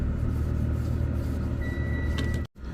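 A car drives along a rural road beside land near Khao Yai, its steady engine rumble and road noise loud and close, with a brief dropout near the end.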